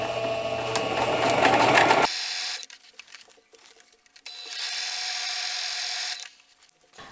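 A sewing machine quilts fabric with a centered needle, 3.5 stitch length and standard presser foot; a loud steady mechanical whir runs for about two seconds, stops abruptly, then resumes as a second steady run before cutting off.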